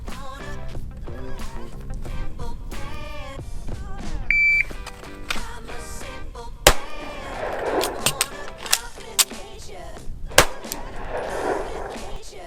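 Sharp pistol shots from a compact Sig Sauer P365 fired at a range, several loud isolated cracks spaced irregularly over background clatter and faint talk.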